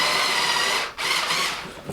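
A powered driver runs screws into threaded inserts on a Maidesite S2 Pro Plus standing desk, giving a close, continuous whirring hum with a short pause midway.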